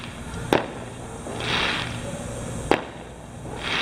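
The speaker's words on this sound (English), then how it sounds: "I guess some people shooting off some fireworks." Fireworks go off around the Fourth of July in a neighborhood: two sharp cracks with rushing, crackling bursts between and after them, fairly loud over a steady outdoor background.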